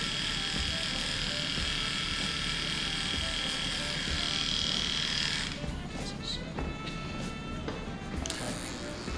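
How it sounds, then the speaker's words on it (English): Electric hair clippers cutting hair during a combover taper fade, a loud steady buzzing drone close by that shifts in tone partway through as the cutting changes. "it's kind of creating the same effect as clipper over the comb, but just with the clipper"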